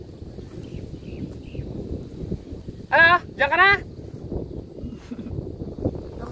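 Low, rumbling wind noise buffets the microphone throughout, with a brief spoken question cutting through midway.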